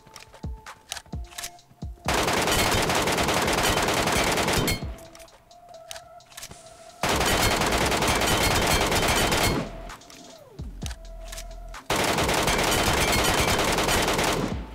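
Gunfire from the PUBG Mobile Metro Royale mode comes in three long, loud bursts of rapid automatic fire, separated by quieter stretches with a few scattered shots.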